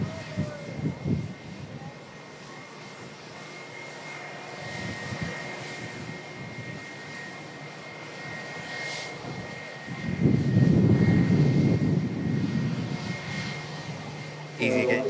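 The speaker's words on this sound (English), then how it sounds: "Next aircraft to touch down is going to be an EasyJet A320 coming in from Palma de Mallorca." An EasyJet Airbus A320 arriving from Palma de Mallorca touches down at Manchester Airport, its engine roar distant and steady, then swelling louder near the end as the reversers engage.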